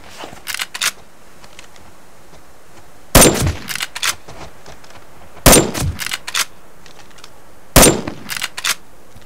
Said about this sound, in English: that third shot should have got him. Should have. This lever action needs a little more oomph.